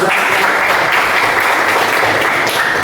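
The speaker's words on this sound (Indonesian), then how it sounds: "Sekali lagi tepuk tangan untuk Mas Jati." A classroom audience at a teacher-training lesson gives a dense, steady burst of applause, loud and continuous throughout with no one speaking.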